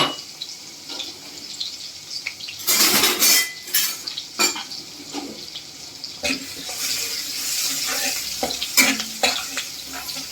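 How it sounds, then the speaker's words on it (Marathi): Crushed garlic sizzles gently in hot oil in a pan on a medium flame for a Marathi chavli bhaji, with the sizzle broken by clattering spoon stirs and pan knocks. "आपण आता लसूण फोडणीला घालतो, जो आपण ठेचून घेतला होता"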